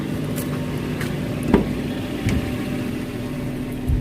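A 2013 Suzuki Carry Futura 1.5 pickup engine idles in a steady, even mid-pitched hum, close by, with a few faint clicks and light knocks on top.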